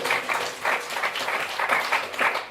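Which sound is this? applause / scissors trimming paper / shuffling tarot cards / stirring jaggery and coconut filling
applause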